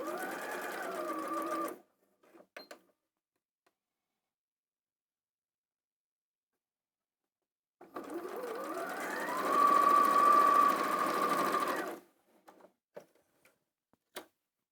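A sewing machine stitching pieced quilt blocks runs in two bursts, about two seconds and then four seconds long, with quiet pauses and a few small clicks from handling the fabric between runs.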